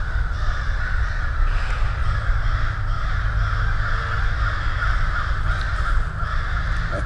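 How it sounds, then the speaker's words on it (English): Crows caw in the woods, a loud, nearby chorus of repeated harsh calls that carries on without a break. "I think the crows know where some of those places are."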